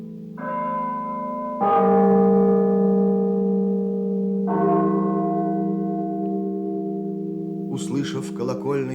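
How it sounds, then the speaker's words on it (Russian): A cathedral bell tolls a funeral knell, with three heavy strokes whose long ringing hum overlaps and slowly decays, loud and resonant, with a voice reading at the end. "С колокольни собора Богоматери раздался первый удар погребального звона."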